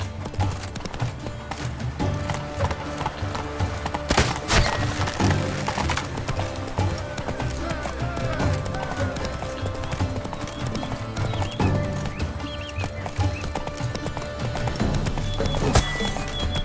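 Geralt's horse Roach in The Witcher 3, hooves clip-clopping steadily at a run with an occasional neigh, set within the game's music and ambient sound.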